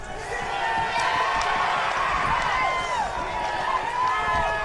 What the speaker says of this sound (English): The crowd are getting really into the game now.